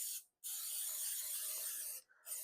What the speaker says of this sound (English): Just going to spray it really well